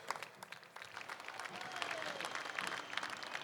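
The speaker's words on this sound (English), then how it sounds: "Round of applause for them, folks." A parade crowd at an Armed Forces Day parade claps in a broad, moderately loud, continuous round of applause with some scattered cheering and faint talk mixed in.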